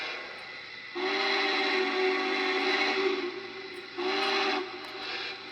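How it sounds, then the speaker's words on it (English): A model steam locomotive's N&W whistle blows a sustained tone for about three seconds, then a second shorter blast follows after a pause, over steady mechanical background. "That's actually one of my favorite whistles in this engine."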